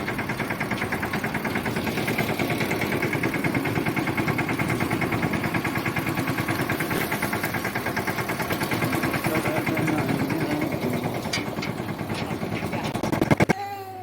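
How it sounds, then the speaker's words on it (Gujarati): A tractor pulling a trolley on its way to load wood runs with a steady, loud, pulsing engine drone throughout, ending in a brief clatter. "તો મિત્રો જો ટ્રેક્ટર લઈને જઈએ છીએ લાકડા ભરવા ટોલી લઈને"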